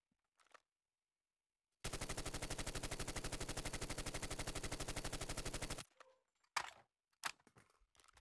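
Rapid automatic gunfire during aim practice on a shooting range in Call of Duty Mobile, a loud, steady burst of evenly spaced shots lasting about four seconds, followed by a few softer game sounds and clicks.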